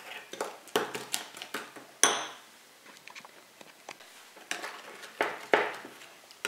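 A spoon clinks and scrapes against a bowl while mixing a coffee face mask, with irregular light taps and scraping strokes, fairly close and fairly quiet.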